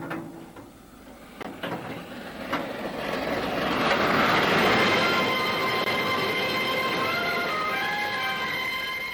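A steam locomotive running on rails, a loud steady rumble and rolling wheel noise that builds and holds, with a few sharp clanks early on and faint squealing tones above.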